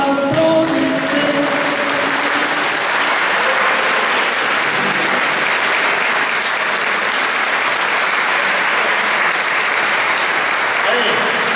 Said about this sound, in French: Messieurs, dames, applaudissez.